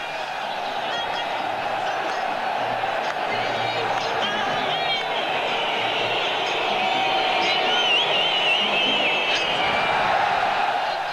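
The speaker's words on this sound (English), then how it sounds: "we joined the rest of the crowd in the Mexican wave" A stadium crowd at a 1998 World Cup match roars steadily during a Mexican wave, a broad, sustained wash of cheering and voices with whistles poking through, loud and unbroken throughout.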